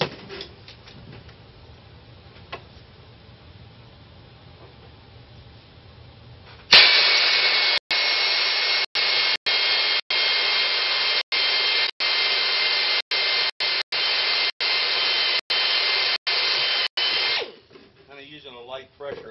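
A power drill bores through an aircraft aileron trailing edge, starting with a sharp burst after quiet talk and running loud and close as a steady whine, broken by brief regular pauses before stopping.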